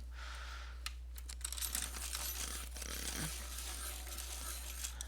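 A Faber-Castell Classic coloured pencil, a cherry red, being sharpened close by, with soft intermittent scraping and grinding bursts over a steady low hum.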